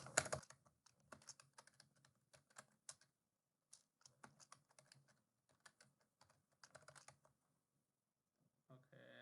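Username and password typed on a computer keyboard, quick close key clicks in irregular bursts separated by short pauses, with a brief rustle at the end.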